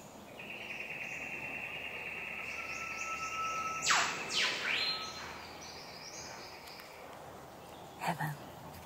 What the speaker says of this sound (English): if you listen carefully, you'll hear some amazing birds.